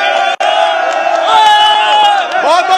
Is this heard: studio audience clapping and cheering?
yes